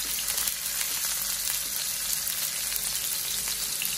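Green chillies and onion sautéing in a pan for a Kerala squid roast, a steady close sizzle and crackle of frying that runs without a break, with no talking.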